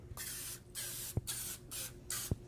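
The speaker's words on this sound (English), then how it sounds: "So we're going to spray these." Several short bursts of cooking spray hiss into a muffin tin in quick succession, close and loud, with brief gaps and light clicks between them.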